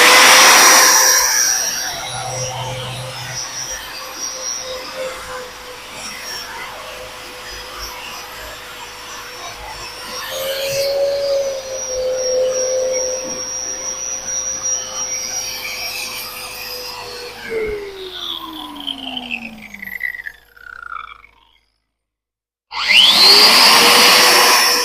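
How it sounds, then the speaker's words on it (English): A 6-inch wire wheel brushes a stick-welded pipe cap with a loud, steady whirring rasp that surges midway, then winds down in pitch and stops before a brief burst of noise returns. "You can see when I wire wheel this how aggressive this 6-inch is."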